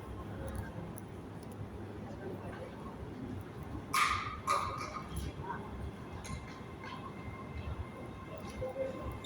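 Train 385101 pulls into a station with a low, continuous rumble beneath the platform ambience, while a dog gives a sharp yelp partway through.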